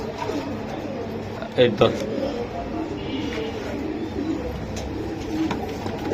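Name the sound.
pigeons cooing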